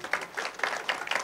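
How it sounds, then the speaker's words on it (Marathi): Applause at a devotional kirtan performance, heard as a short burst of rhythmic clapping with regular accented beats, moderately loud and without speech. "एकदा जोरदार कडाडून टाळ्या या सगळ्यांसाठी झाल्या पाहिजेत."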